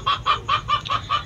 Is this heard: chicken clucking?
yes